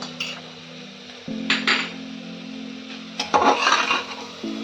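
A spoon clinks and scrapes against a pot in a few short bursts as cumin and salt are stirred into chicken soup, close by, between quieter pauses and a low steady hum.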